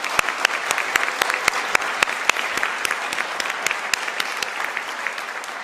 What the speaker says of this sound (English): we give him really big round of applause for supporting graduate school and graduate students